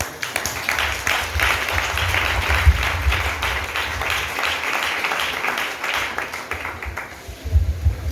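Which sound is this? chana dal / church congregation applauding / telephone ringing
church congregation applauding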